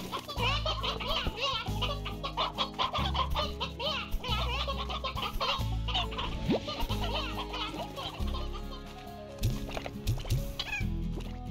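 Hens cluck and chatter in a modded video game ranch, busy bird calls layered over background game music with a voice talking at times.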